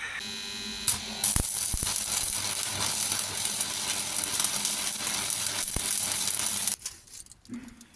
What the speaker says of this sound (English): So I'm just going to tack the brackets to the back plates to start with